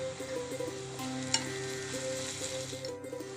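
Chopped onion, cumin and salt frying in oil in a pan for a black-eyed pea and potato curry, a quiet, continuous sizzle with a little stirring under soft background music.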